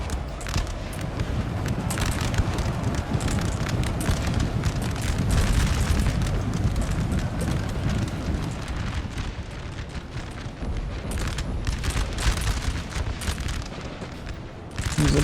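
Artillery booms and musket volleys roll through a Napoleon Total War battle as a dense, continuous roar of explosions and gunfire, loud and unbroken.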